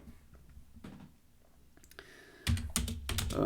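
Keys on a computer keyboard tap in scattered soft clicks, followed by a louder burst of quicker keystrokes near the end, while numeric values are entered into a Python console, close and with no talking.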